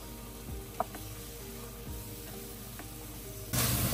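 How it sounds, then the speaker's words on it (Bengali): Garlic fries in a pan with a soft, continuous sizzle, a few light clicks and stirring scrapes, then a louder burst of sizzling near the end; no talk. "রসুনটা একটু জাস্ট ভেজে নিতে হবে।"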